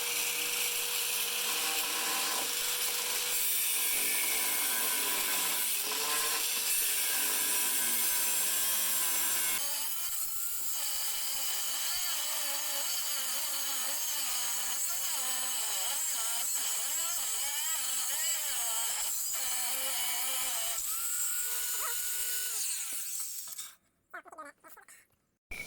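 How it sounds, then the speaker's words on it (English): Power tool cutting rusted bolts off a Kubota G4200 mower deck, a loud continuous grinding whine with shifting pitch for most of the stretch, cutting off abruptly near the end. "so I'm gonna try to cut these bolts off and then beat it through."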